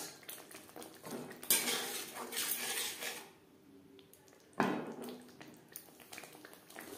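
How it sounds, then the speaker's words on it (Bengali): Tender green peas tipped into a pan of oil-releasing fried spice paste for a vegetarian potato and cauliflower curry, making two sharp, close clattering bursts with a softer rattle and sizzle between them. No one speaks. "এই পর্যায়ে দিয়ে দেব মটরশুঁটি"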